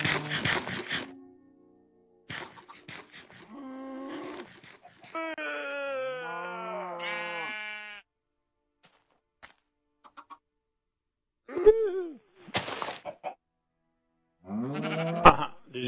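Sheep in the Minecraft video game bleat in several short, wavering calls, mixed with blocky game thunks and clicks, with no talking over them.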